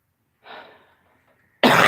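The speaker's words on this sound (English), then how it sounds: "I'm still kind of coughing" A single close cough trails off into a breathy rasp, followed after a short pause by a sudden louder burst.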